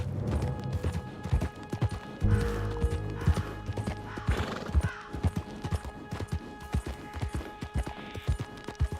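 Horse hooves clip-clop at a gallop in Red Dead Redemption 2, with a neigh and whinny rising over the steady hoofbeats; sharp rhythmic thuds continue throughout, fairly close and loud.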